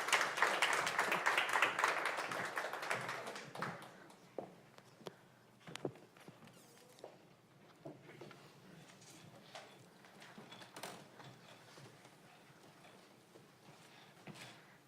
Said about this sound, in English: Let's give a big round of applause for Dana Mary Cooper, Eric Shear, and Zuby.